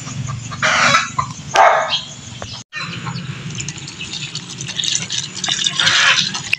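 Chickens cluck and squawk close by in busy overlapping bursts, with a rooster-like crow rising among them over a constant low rumble, at a backyard where chickens and ducks are fed.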